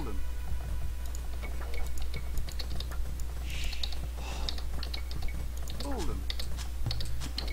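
Quick, irregular clicks from typing on a computer keyboard while playing Age of Empires II HD, close and fairly crisp over a steady low hum, with a few faint game sounds in between.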